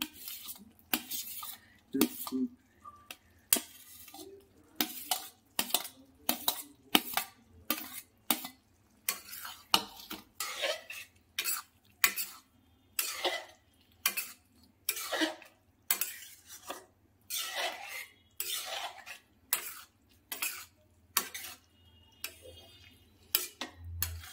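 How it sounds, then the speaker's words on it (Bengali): Paneer and potatoes cooked in a pot in a Delhi hostel kitchen, stirred with a metal spoon in repeated bursts of scraping and clinking against the pot, steady rhythmic strokes close by with short pauses and a low background hum. "এখানে এখন এর মধ্যে এখন পনিরটা দেওয়া হচ্ছে, তারপর আলুটা দেওয়া হচ্ছে"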